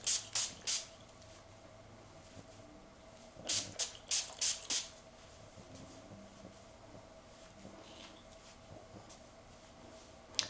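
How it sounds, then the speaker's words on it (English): Pattern shine spray is misted onto gray hair in two bursts, first three quick hisses and later about five more short pumps, close and crisp against a quiet room. "I'm going to go back to this Patten Shine Spray and just let you see how that looks"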